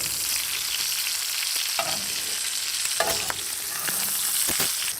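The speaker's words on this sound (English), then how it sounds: "while you're basting this with this hot butter and bacon liquid, it's also gonna help crisp all the rest of the outside of your bacon" Bacon-wrapped filet mignon in a cast iron pan sizzles in hot butter and bacon fat, a loud steady fry broken by spoon scrapes and splashes from repeated basting.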